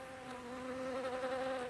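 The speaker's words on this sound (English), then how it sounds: "Now, there were bees." A steady, droning insect buzz with a strong hum, close and continuous throughout, slightly swelling in loudness toward the end.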